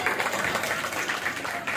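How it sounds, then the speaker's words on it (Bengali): Steady, dense applause fills a teachers' day event at a school as a crowd claps loudly and continuously for a short burst. "জোরে হাততালি"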